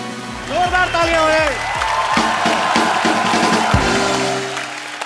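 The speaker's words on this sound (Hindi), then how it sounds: "अनुराग भाई, जोरदार तालियां हो।" Studio audience on a Hindi TV comedy show breaks into loud, sustained applause and cheering for arriving guests, with a host speaking over the start of it.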